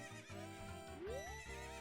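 Epona, the horse in The Legend of Zelda: Ocarina of Time, gives a short high neigh that rises and falls, playing close and clear over looping game music.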